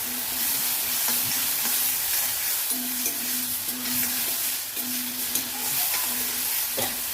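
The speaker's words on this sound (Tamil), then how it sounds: "இது நல்லா டீப்பாக ஃப்ரை ஆகுதுங்க" Snake gourd seeds deep frying in a pan, a steady close sizzle with scraping stir strokes scattered through, no talking.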